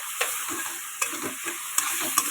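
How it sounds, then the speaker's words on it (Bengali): Shrimp fry in oil in a pan, a continuous close hiss of sizzling broken by a few light stirring taps, with no speech. "এই পাশে আমি চিংড়ি মাছগুলো এখন কত সুন্দর করে ভেজে নেব"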